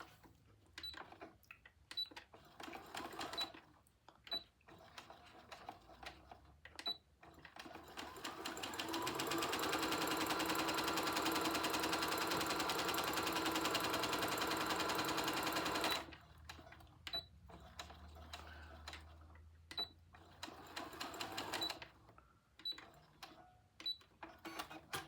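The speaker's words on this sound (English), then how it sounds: "And then I'll sew these two onto here." A sewing machine stitches quilt appliqué pieces, working in short stuttering bursts, then running in one long steady whir of about six seconds before returning to brief stop-start stitching, close and clear.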